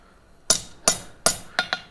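A blacksmith hammers metal at a forge while adjusting a piece cold, giving five sharp ringing strikes at a steady rhythm, close and loud, each one ringing briefly before the next.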